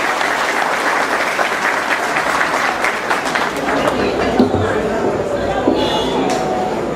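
Loud audience applause for a guest lecturer at an evening conference in La Vega, with dense clapping that thins out midway as crowd murmur and a voice come through.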